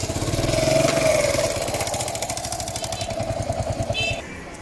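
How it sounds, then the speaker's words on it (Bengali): A Honda C50 motorcycle engine runs with failing engine oil, a rapid even ticking putter close by with a whining tone early on and a brief rattle near the end. "কি করে বুঝবেন বাইকের ইঞ্জিন মোবিল বা ইঞ্জিন অয়েল ফেল করেছে?"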